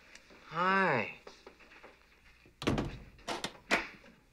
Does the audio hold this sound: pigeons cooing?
no